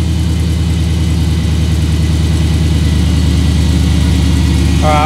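A supercharged 1955 Chevy V8 idles steadily in first gear, a loud, even low rumble with a rhythmic lope that holds the same pitch throughout, close by with no talk.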